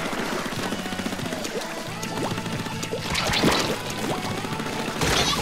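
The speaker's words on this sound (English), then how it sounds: "They're shooting me like crazy." Enemy ink guns firing in the Nintendo Wii U game Splatoon, a busy stream of rapid wet splattering shots and squirts over game music, with denser bursts toward the end.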